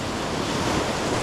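Stormy sea waves surge against the shore during a rough swell, a dense, continuous roar mixed with strong wind buffeting the microphone, loud and close with no pause.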